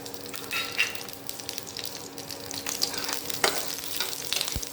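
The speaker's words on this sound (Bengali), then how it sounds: "তেলটা একটু গরম হলে আমি গোটা গরম মশলা দেবো এর মধ্যে, ছোটো এলাচ, লবঙ্গ," Whole cardamom, cloves and cinnamon sizzle in a few spoonfuls of hot white oil: a steady, close frying hiss with occasional sharper crackles and pops, with no talking.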